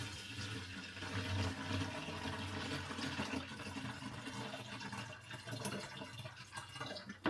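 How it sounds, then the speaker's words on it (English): Water is poured steadily into a gallon jug, a continuous trickling and gurgling fill that holds fairly even for several seconds at moderate volume, with no talking. "pour it in your gallon."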